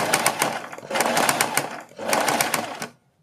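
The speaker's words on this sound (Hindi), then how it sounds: "इस तरह से इस पट्टी को हमें अपने नेक के ऊपर सिलना है।" A sewing machine runs in two steady bursts, stitching a strip of fabric onto a round neckline, with a short pause between runs before it stops and falls silent.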